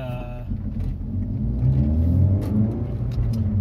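A Citroën Xsara VTS Phase 2 engine revs up steadily as the car accelerates, a rising low rumble heard from inside, with no talk over it.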